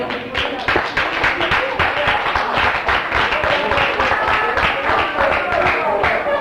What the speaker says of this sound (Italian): io vorrei indirizzare un caloroso applauso